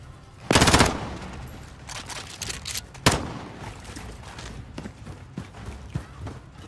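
Gunfire in the video game Call of Duty Modern Warfare: a loud burst of automatic fire, a sharp single shot, then scattered quieter shots and battle noise.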